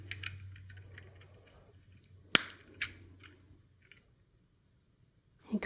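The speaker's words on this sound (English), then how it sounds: "I'm going to cut some" Wire cutters snipping 22 gauge craft wire for beaded link chain, giving one sharp, loud snap near the middle, followed by a softer click and a few faint handling taps in a quiet room.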